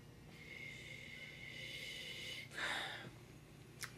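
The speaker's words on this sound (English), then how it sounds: "Let's give it a sniffy sniff." A short, breathy sniff at a glass of golden Croatian wine, one quick nasal inhale over a quiet room background.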